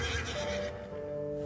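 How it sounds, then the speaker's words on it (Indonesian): A horse gives a loud, drawn-out whinny with a clear ringing pitch that trails off over a soft background wash. "Ringkiknya yang dahsyat mengerikan."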